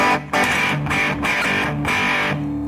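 Electric guitar through a Wren & Cuff fuzz pedal with the distortion set all the way down, still gritty and raunchy, playing a few loud chords in quick succession with brief gaps between them, no talking.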